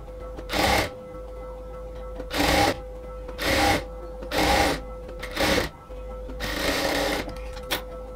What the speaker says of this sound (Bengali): পুরো স্লিভসের মধ্যে এবার আরও একটা ডাবল সেলাই দিয়ে নিচ্ছি